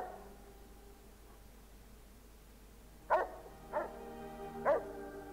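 Dogs in Fallout New Vegas whimpering and yipping, three short whines spaced about a second apart over a quiet game ambience.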